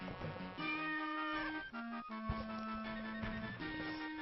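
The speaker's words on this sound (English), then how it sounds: "That's a cat." A cat meows near a microphone, several mews laid over a game's background music, moderately close and fairly soft.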